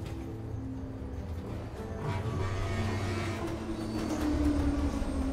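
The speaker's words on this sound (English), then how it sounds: "Nice little tram going above our head." A tram rumbles past overhead in the Borderlands video game, a steady low mechanical rolling drone that swells slightly louder toward the end, with no talking over it.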